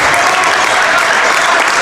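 A crowd at a boys' high school basketball game claps and cheers in a dense, loud, continuous wash of applause.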